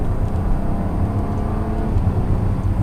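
A 2019 Porsche Cayenne S in sport mode accelerating, its engine giving a steady, loud, dense roar that holds without a break from start to finish.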